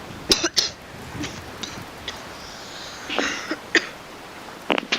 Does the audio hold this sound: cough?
yes